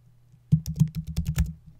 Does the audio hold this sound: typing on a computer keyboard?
yes